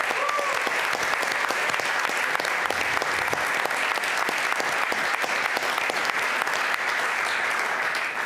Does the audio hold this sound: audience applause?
yes